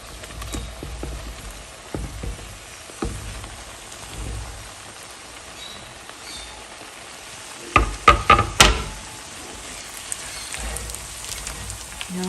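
Sliced onion and diced potatoes sizzling in a frying pan, a soft steady crackle with scattered spatters and a few louder stirring clatters partway through, no talking.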